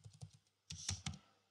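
Typing on a computer keyboard, with a few quick soft keystrokes followed by a brief denser burst of clicks, close and quiet, with no voices.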